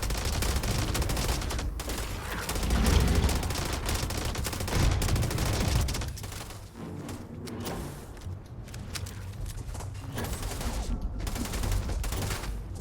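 Rapid bursts of gunfire from a companion shooting in the Starfield video game, loud sustained volleys early that thin into scattered shots with mechanical clanks, no talk.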